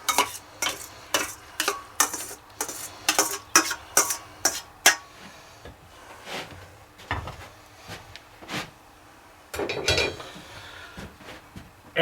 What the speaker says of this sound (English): And we're going to mix it all together.